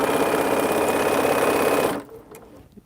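Domestic sewing machine stitching patchwork quilt blocks together, a loud, steady rapid mechanical whir that runs continuously for about two seconds, then stops abruptly, leaving a quiet room with faint small clicks.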